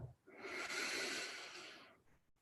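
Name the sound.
deep breath in during guided breathing exercise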